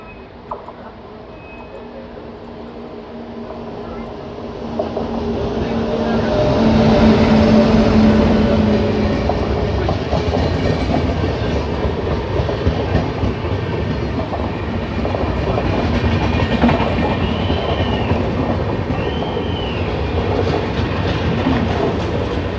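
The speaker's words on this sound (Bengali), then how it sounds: "চলে আসছে ইন্ডিয়ার longest running train Dibrugarh Kanyakumari বিবেক সুপারফাস্ট এক্সপ্রেস।" The Dibrugarh–Kanyakumari Vivek Superfast Express passes close by: a loud, steady rumble of rolling wheels and rattling coaches builds and holds for over twenty seconds, with clattering rail joints and brief high squeals.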